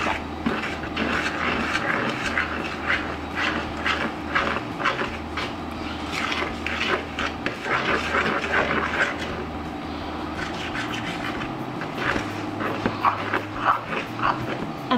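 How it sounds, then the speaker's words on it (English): Cake batter for a rainbow cake is whisked in a bowl, making rapid, steady, rhythmic scraping clicks close by over a low background hum. A voice speaks briefly. "I'm going to whisk them all together before moving on to the next step"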